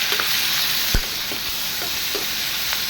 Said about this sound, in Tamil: அப்புறம் தக்காளி தக்காளியும் போட்டு கொஞ்சம் உப்பு அப்போ போட்டோம்னா ரெண்டு ஈஸியாக வதங்கிடும் சீக்கிரமே